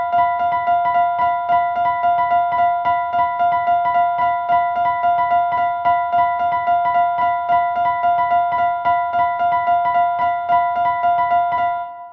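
Two layers of sharp tonal ticks pulse at different rates, forming a steady, complex polyrhythm that runs unbroken for twelve seconds before fading out.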